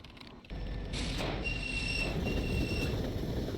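A train departs after a brief quiet moment, a broad steady rumble of rolling wagons swelling in with faint wheel squeals and mechanical clatter, continuing loud to the end.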